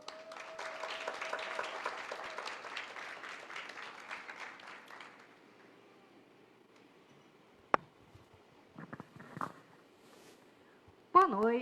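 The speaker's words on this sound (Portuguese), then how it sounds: "Salva de palmas." An audience gives a round of applause for a professor in 1920s costume at a university evening event, a quiet, distant patter of clapping lasting about five seconds before fading, followed by scattered clicks and brief speech.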